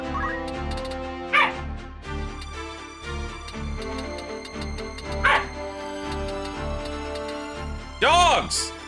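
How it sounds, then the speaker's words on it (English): Dogs bark in a few sharp bursts, one at the start, another midway and a louder one at the end, heard over game music with a tonal, melodic background. "Dogs! Stop it!"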